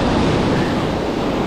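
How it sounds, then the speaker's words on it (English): Ocean surf rolls in steadily along a south shore beach, a loud continuous wash of breaking waves mixed with wind rushing across the microphone. "Oh, bigger waves."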